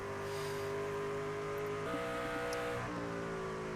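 Racing trucks from the SRU Gomez Truck Series at Phoenix roar steadily around the race track, layered engine drones shifting pitch as they hold speed and pass in a continuous loud pack with no talking.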